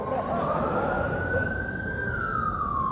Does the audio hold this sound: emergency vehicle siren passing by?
yes